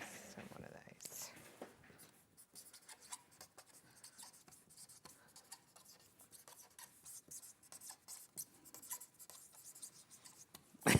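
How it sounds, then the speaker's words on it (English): A pen scratches across a piece of paper close up during a live sewing show, with irregular strokes and scribbles running through most of the stretch while people talk in the background. "Just writing on it."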